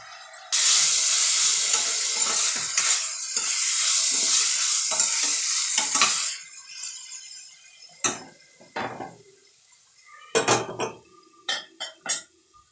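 Tomatoes with turmeric frying in a pan for a flat-bean curry, a loud steady sizzle for about six seconds that fades into scattered metallic scrapes and clinks of a spoon stirring against the pan.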